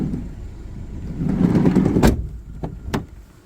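A commercial van's sliding door rumbles along its track and thuds shut, followed by a couple of sharp clicks, at a car market in Rivne, Ukraine.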